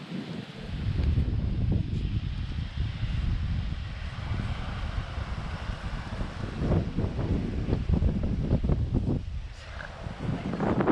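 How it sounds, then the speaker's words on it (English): Strong wind buffets the microphone in continuous low rumbling gusts, with faint rustling over the roar, at Green Turtle Cay in the Bahamas. "It's too windy."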